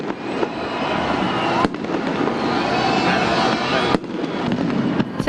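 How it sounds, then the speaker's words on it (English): Fireworks bursting during New Year celebrations, with dense loud crackling and popping that continues throughout and sharper bangs standing out now and then. "Fireworks lit up the skies around the world as millions welcomed 2015."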